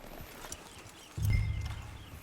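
Horse hooves clip-clop on the ground in the Red Dead Redemption 2 video game, a few soft steps followed by a louder, quickening stretch of hoofbeats.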